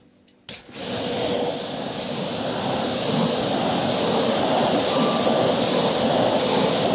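After a brief moment of quiet, a strong, steady spray of water starts up and rinses oven cleaner off a car wheel rim. The spray is close, loud and continuous as it hisses and splashes for the rest of the stretch.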